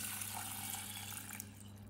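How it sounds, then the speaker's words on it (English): Water is poured into a pan holding coriander seeds, a continuous close splashing trickle that runs steadily and fairly quietly before tapering off near the end. "750 milliliters of water"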